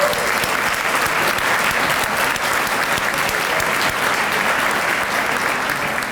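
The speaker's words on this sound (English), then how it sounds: "Also like the committee that put together this wonderful dinner to also stand briefly and receive another well-deserved round of applause" A dinner audience at an NAACP awards banquet applauds the committee, with dense, sustained clapping from a large crowd filling the whole six seconds at a strong, even loudness.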